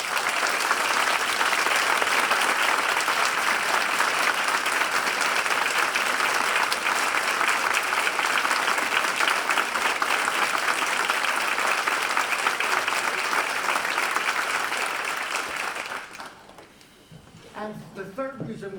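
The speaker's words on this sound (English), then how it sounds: "all of us should give a round of applause to Kathy Gallo" Long, loud audience applause at a graduate nursing convocation, dense clapping filling the hall for about sixteen seconds before fading, after which a voice begins speaking.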